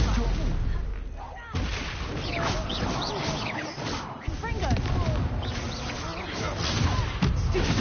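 Confringo and Bombarda spells exploding in the Hogwarts Legacy video game, repeated heavy blasts and gunfire-like bursts in a chaotic fight, loud and near, with voices calling out over the din.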